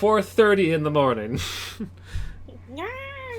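A tabletop role-playing player vocally imitates a cat's meow in a playful, drawn-out voice, with wavering pitch and a few breathy bursts between, close and clear against a steady low hum; other voices talk briefly.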